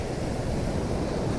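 Rough sea surf at Vypin beach, a dense continuous roar of breaking waves, loud and close with wind buffeting, no voices.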